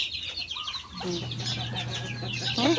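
Chickens and mother hens at feeding time on a backyard farm, fed rice mixed with feeds, give off a busy mix of clucks and chirps, with a louder hen call near the end and steady low background hum.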